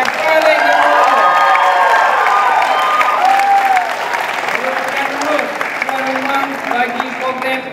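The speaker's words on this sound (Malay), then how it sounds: "Muhammad, Pengetua Kolej Aminuddin Baki, kita berikan tepukan paling gemuruh" A large audience at a university leaders' colloquium opening bursts into sustained applause and cheering, loud and dense throughout before easing slightly toward the end.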